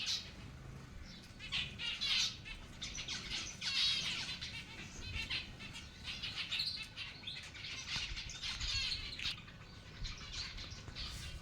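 Lively chirping and tweeting from several small birds, repeated calls and squawks over a steady background, fairly close and clear with no talking.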